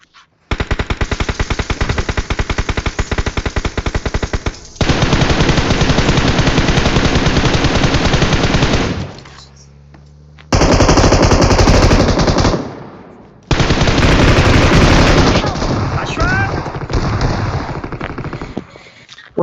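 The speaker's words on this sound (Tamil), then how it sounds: "ஒருத்த ஷாட் கன் வச்சிருந்தான்டா." Gunfire in the BGMI battle-royale game, including shotgun shots, sounds as long, loud, relentless rapid bursts, broken by two short quiet gaps before firing resumes.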